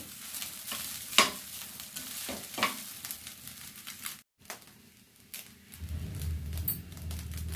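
Rice with sweet corn and carrot frying in a pan and being stirred, giving a steady sizzle with scraping spoon strokes and a few sharp clinks; a brief gap falls midway, then a low rumble rises beneath the frying.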